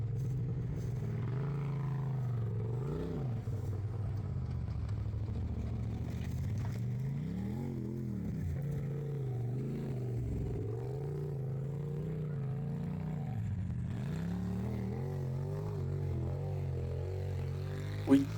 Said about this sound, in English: Here comes another car around us.